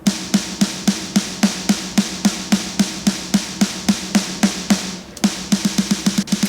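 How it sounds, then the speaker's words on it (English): Isolated snare drum sample track for a thrash metal mix, layered with metallic machinery hits, played alone in a fast, steady run of sharp, loud strikes with a brief gap before a quicker burst. "So the snare sample track on its own sounds like this."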